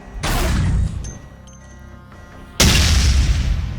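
Grenades detonate in the shooter game Dead Effect, two heavy booming blasts with deep rumbling bodies, the second louder and closer, separated by a quieter stretch of faint metallic game tones.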